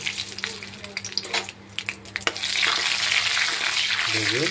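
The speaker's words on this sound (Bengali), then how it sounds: "বাদামটা ঠান্ডা তেলে ভাজতে হয়, একটু গরম হয়েছে বন্ধুরা, তাও দিয়ে দিচ্ছি আমি।" Peanuts frying in a pan of oil that is not quite hot, being cooked for khichuri; a steady broadband sizzle builds and grows louder toward the end, with brief clatters and a voice speaking over the start.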